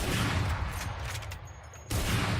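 Rapid bursts of gunfire fired through a wall in the video game Valorant sound loud and dense. They pause briefly before another burst.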